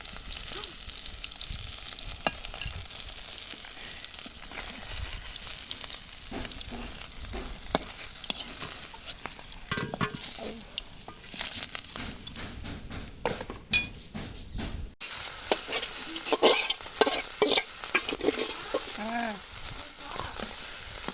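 Fish fries in oil with chili powder and ginger-garlic paste, giving a steady crackling sizzle broken by stirring and clinks of utensils against the pan, while a person talks over it.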